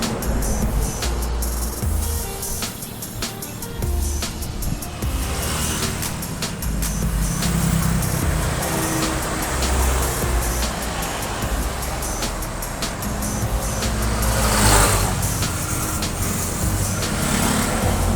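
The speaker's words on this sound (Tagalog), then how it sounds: "ang daming sasakyan na dumadaan" Steady stream of cars, buses and trucks passing along the coastal road in Davao, continuous traffic rush with vehicles swelling and fading nearby, no speech.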